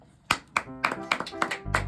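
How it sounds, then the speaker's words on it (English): A small audience claps for a children's Halloween show, heard as a handful of sharp, separate claps in an uneven rhythm that gather into a quicker patter at the end, close and fairly loud. "the audience clapped"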